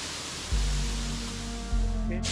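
Steady broadband rush of waterfall-fed water flowing beside a short walking path at Jhari Falls near Chikmagalur, Karnataka, constant and fairly close, with a low rumbling hum rising underneath partway through.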